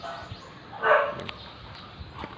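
A dog's short bark or yelp during a dog-training session with a ball, one brief burst near the middle over a faint background.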